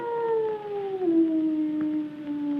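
A dog howls in one long, steady, mournful wail that slowly falls in pitch and carries on throughout, with no talking over it.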